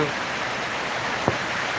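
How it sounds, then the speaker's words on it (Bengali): Heavy rain pouring down steadily as a continuous, fairly loud hiss, with a brief thump partway through. "প্রচুর বৃষ্টি হচ্ছে আমাদের এখানে"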